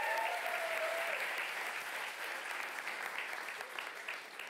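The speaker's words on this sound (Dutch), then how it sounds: "ik wil ook echt een applaus voor de organisatie" Lecture audience applauding the event organisers at a talk on decolonising agriculture and food, a sustained even wash of many hands clapping, moderately distant, with a brief voice at the start.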